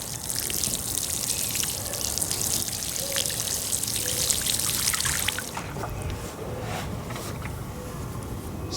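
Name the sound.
water poured to water in a newly planted apricot tree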